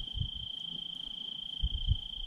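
Crickets chirp steadily outdoors at night beside a campfire, a continuous high shrill trill that holds the whole time, with soft low thumps and rustles drifting underneath.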